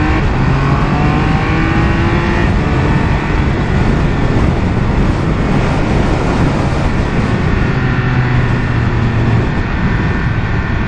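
A Triumph Speed Triple 1200RR motorcycle roars steadily through a track lap, its engine note rising and falling as it accelerates, with heavy wind rush throughout and no talking.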